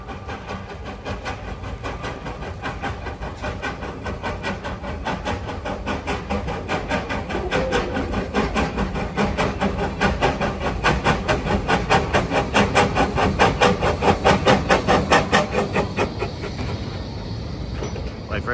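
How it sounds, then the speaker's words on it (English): A steam locomotive approaches at a model railway show, building into a loud rhythmic chuffing that swells over several seconds before easing slightly, with a crowd murmuring in the background. "There's a train approaching, we can hear it."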